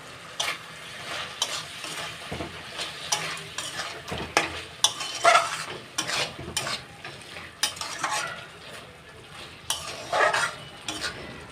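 Chicken cooking in a pan on low flame is stirred with a utensil, giving repeated scraping and clinking strokes over a soft background sizzle, close and irregular, with no speech.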